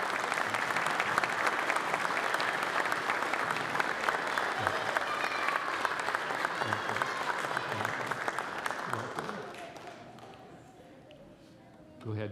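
A church congregation at a traditional worship service gives a sustained round of applause to welcome a new member, dense and steady before fading away near the end, when a voice begins.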